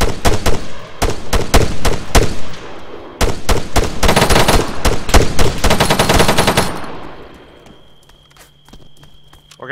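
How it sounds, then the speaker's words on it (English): Machine gun fire in an Arma 3 firefight sounds as dense, loud bursts of rapid shots in two long volleys, then fades to scattered distant pops and quiet background. "We're getting shot by those infantry."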